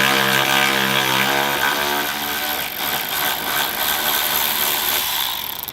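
Close, loud, steady whir of a Milwaukee cordless ratchet with a 10 mm socket spinning off the top bolts of a grill, running continuously.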